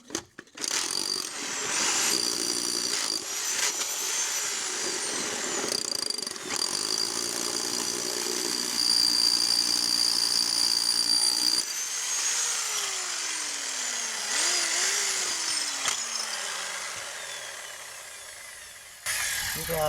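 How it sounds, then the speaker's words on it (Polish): A power drill bores through material during an old-house renovation, a loud, steady motor whine with shifting pitch that runs for most of the stretch, slowing and dipping near the end before stopping. "Dobra, przewierciłem."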